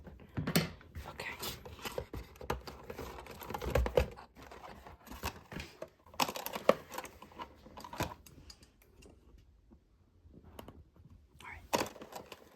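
Cardboard tabs on an Our Generation doll box are worked open, with close, crisp clicks, taps and scrapes coming in irregular bursts and short quiet gaps.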